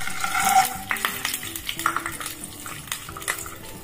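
Peanuts fry in hot tempering oil for chutney, sizzling and crackling while a spoon stirs and scrapes the pan with irregular clinks.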